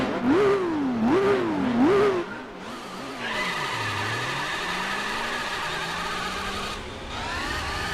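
A Jaguar XJ220 race car engine in Gran Turismo 4 revs up and down through repeated rising and falling surges, then settles into a high, sustained engine whine with gear changes, loud and close.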